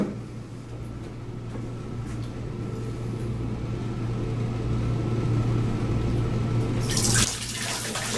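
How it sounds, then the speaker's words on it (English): Water is poured onto a tilted glass pane so it sheets across the surface, a steady running-water wash over a constant low hum, ending in a short bright splash. "I'm going to pour the water on it so that the water would sheet"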